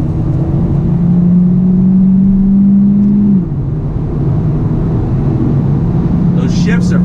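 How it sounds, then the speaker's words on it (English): A 2019 Hyundai Elantra Sport engine pulls through a corner under throttle with quick paddle shifts, a steady mid-pitched drone that holds and then drops at a shift, heard from inside the cabin with someone talking over it. "Using the paddles, third, tip it in, out of the corner on the throttle."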